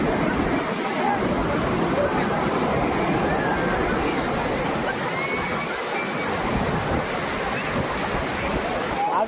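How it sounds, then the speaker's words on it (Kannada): Sea waves crash on Murdeshwara beach in a loud, continuous roar of surf that stays steady throughout, with no clear breaks between swells. "ನಾವು ಇದ್ದಲ್ಲೇ ಇದ್ದೀವಿ ಗೈಸ್, ಬಟ್ ಸಮುದ್ರ ಕರ್ಕೊಂಡು ಹೋಗ್ತಾ ಇದೆ"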